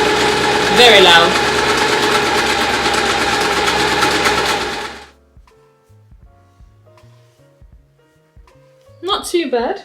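A home sewing machine sewing a straight stitch, a loud rapid mechanical whirring for about five seconds that stops abruptly, followed by quiet clicks and a brief burst of talking.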